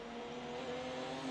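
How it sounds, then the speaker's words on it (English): Deep, gravelly GT race car engines from a racing video game at Road Atlanta, a steady sustained drone with faint tonal whine, fairly quiet and continuous with no talk. "I love the way these cars sound."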